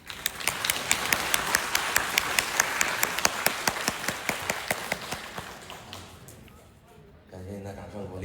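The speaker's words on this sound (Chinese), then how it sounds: "感谢您的掌声鼓励" Audience at a crosstalk show applauding in rhythmic unison, loud regular claps that fade out near the end, followed by a voice starting to speak.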